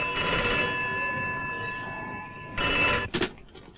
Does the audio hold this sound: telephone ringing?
yes